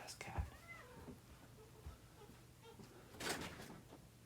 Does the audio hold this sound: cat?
yes